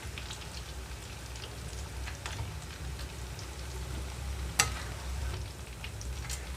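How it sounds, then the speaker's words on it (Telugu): Bitter gourd pieces frying in a pan make a steady, even sizzle like light rain throughout, with occasional sharper pops and one louder crackle; no talking. "మిగిలిన ముక్కలను కూడా ఇలాగే వేయించుకుంటున్నాను నేను ఇప్పుడు"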